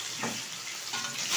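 Cut taro pieces frying in hot oil, a steady close sizzle with soft stirring swishes rising and falling.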